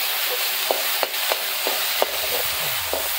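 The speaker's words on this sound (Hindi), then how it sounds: "देखिए हम लोग का मस्त फ्राई हो रहा है प्याज" Onions with ginger fry in a pan for pork biryani, giving a soft, steady sizzle broken by several sharp clicks and scrapes of a stirring utensil, close up with no talking.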